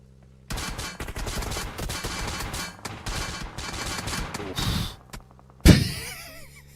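Rapid gunfire in a PUBG Mobile esports match striking a Jeep, dense bursts of shots for several seconds, then a heavy thud and lingering ringing, with faint voices underneath.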